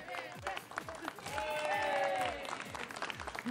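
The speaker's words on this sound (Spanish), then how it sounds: "están aplaudiendo la gente" Outdoor crowd applauding at a street procession with a horse-drawn carriage, dense clapping steady for several seconds beneath loud voices, shouts and a tonal whistle or horn layered over the scene.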